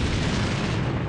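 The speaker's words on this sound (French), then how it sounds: "Il y aurait des explosions de supernovas" A supernova explosion sound effect: a continuous, loud, rumbling blast with heavy low-end roar that holds steady before tapering slightly at the end.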